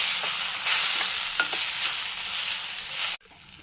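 Chopped tomatoes sizzle and are stirred in a hot pan while cooking paneer masala, a loud, steady frying hiss with scraping stir strokes, cutting off abruptly near the end.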